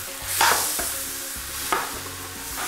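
Meat dropped into a hot pan of frying garlic and onions, with a loud sizzle and stirring scrapes rising over a steady frying hiss, no talk.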